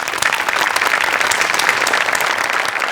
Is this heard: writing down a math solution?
no